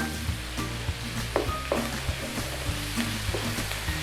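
Mushrooms sizzle in melted butter in a pan while being stirred, a steady close crackle with soft repeated scraping and clinking of the utensil against the pan.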